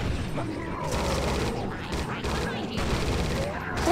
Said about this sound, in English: Shotgun went right through this guy.